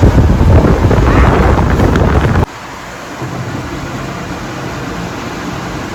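A repaired tower fan, an air cooler, runs at full speed, its strong airflow buffeting the microphone as a loud rushing roar that abruptly drops partway through to a quieter, steady whir.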